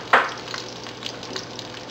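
Squid and shrimp frying in olive oil for a seafood paella, a sharp sizzle burst at the start settling into a soft, steady crackle and spatter, close and alone.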